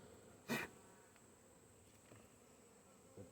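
Honey bees around an opened beehive give a faint, soft buzz, with one brief louder pass close to the microphone and occasional faint flybys against a quiet outdoor background.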